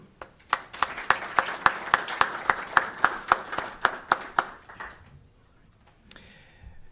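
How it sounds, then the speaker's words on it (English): Rhythmic hand clapping from a small audience at a chamber of commerce panel introduction, about a dozen sharp, fairly close claps in steady succession that thin out and stop, with one stray clap afterward. "if we can give them a round of applause"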